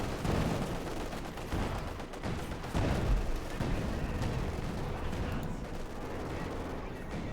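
German Pak 40 anti-tank gun firing on a Soviet T-70 tank in the Company of Heroes 2 strategy game: a dense, continuous battle din of gunfire bursts and explosions, loud and steady throughout.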